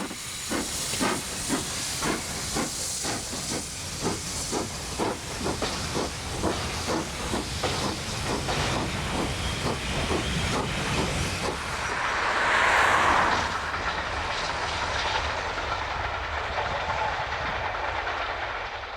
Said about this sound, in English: using an ex-Great Western Hall class locomotive, Alton Hall